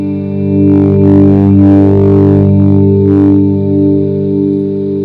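A distorted electric guitar chord played with volume swells rings out sustained and loud, swelling in and out in waves while delayed repeats blur together.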